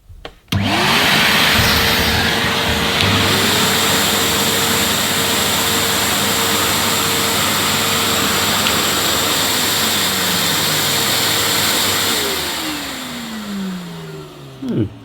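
Loud, steady vacuum motor roar with a layered whine from two Henry canister vacuum cleaners running together, one machine's pitch sliding up and down as it revs, continuous for the whole stretch.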